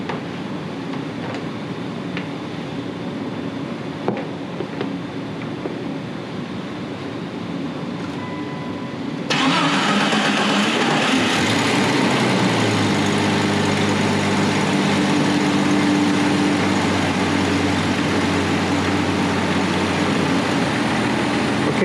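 A vehicle engine undergoing a fuel pressure test, with pressure reading low, cranks and catches about midway, then settles into a steady, loud idle after a quieter stretch of background noise.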